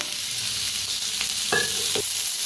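Onion frying in mustard oil, a steady close sizzle with a brief clatter of stirring near the end and no talk.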